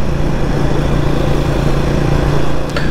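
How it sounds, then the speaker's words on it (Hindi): A Triumph Speed 400 motorcycle being ridden, its engine a steady, loud, low drone with constant road and wind noise throughout, close to the rider and without talk. "फाइनली अब हम इस बाइक को चलाने लगे हैं"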